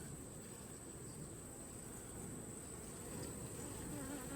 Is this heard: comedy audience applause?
no